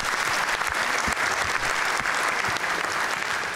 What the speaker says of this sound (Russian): бурные продолжительные аплодисменты прошу не рассматривать как какое-то давление на центральный банк